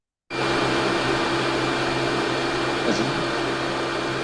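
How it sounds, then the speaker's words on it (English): A vacuum cleaner switches on abruptly and runs at a constant loud whine with a steady airflow roar, unbroken to the end. "the motor, the airflow. Of course, that's not how we hear the vacuum cleaner"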